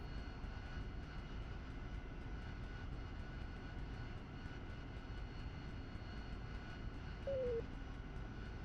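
Harrier jet engine in the DCS flight simulator, a steady, even roar droning at constant level throughout, with a brief higher tone near the end and no talking.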